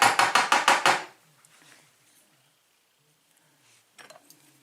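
Taking a spring out of a gutted Marks 5-pin lock: a quick burst of about six sharp metallic taps in the first second, then near silence with faint small clicks and a few soft ticks toward the end.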